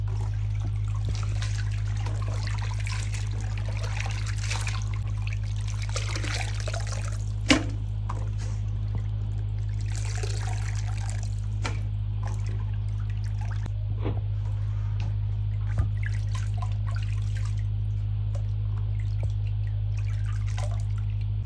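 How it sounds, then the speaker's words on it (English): Water rinses hibiscus zobo leaves in a pot, a steady close trickling and sloshing with occasional clunks, all over a constant low electrical hum. "So after rinsing the leaves"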